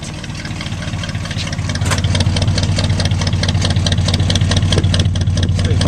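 A 1965 Ford Galaxie V8 engine idles with a deep, steady exhaust rumble, loud and close, holding a constant throbbing rhythm throughout with no talking.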